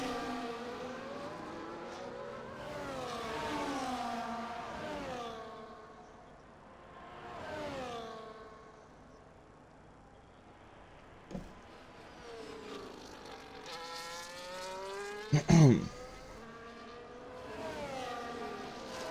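Several Formula 1 cars racing at Las Vegas in a simulated league race, engines swelling and fading as they pass by in waves, with a couple of sharp clunks and a loud close burst near the end.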